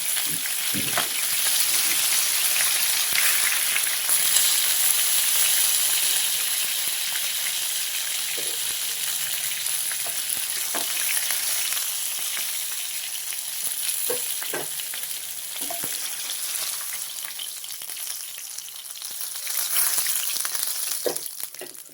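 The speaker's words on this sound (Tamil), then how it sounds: "இதே போல எல்லா மீனையும் பொரிச்சு எடுத்துக்கலாமா." Fish fries in hot oil in a pan, giving a loud, continuous sizzle with occasional light scrapes and clinks from turning the pieces, and no talking.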